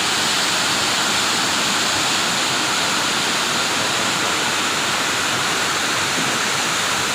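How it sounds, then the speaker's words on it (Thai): Dai Chong Thong waterfall in Sangkhla Buri, Kanchanaburi, Thailand, roars continuously nearby in rainy season, a dense, even rush of falling water with no pauses or other sounds. "เป็นน้ำตกไดช่องถ่อง"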